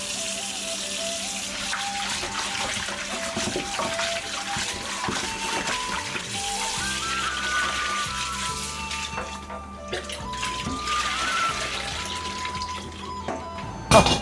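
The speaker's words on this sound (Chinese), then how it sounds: "用流水给它搓个澡。" Raw chicken feet are rinsed and rubbed under a running tap into a large basin, a steady loud gush of water with shifting splashes and rubbing as hands work the feet, and no speech.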